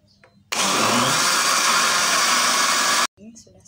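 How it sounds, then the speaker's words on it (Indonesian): A kitchen blender whirs loudly through a cassava and rice flour batter for about two and a half seconds, starting and stopping abruptly, with quiet room sounds before and after. "lalu kita akan blender."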